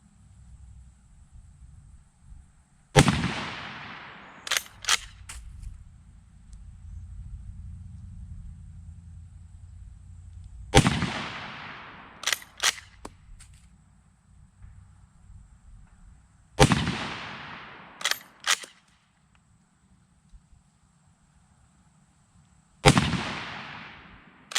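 A Steyr M95 rifle fired from a kneeling position outdoors, four sharp loud shots spaced several seconds apart, each followed by quick bolt-action clacks and quiet pauses.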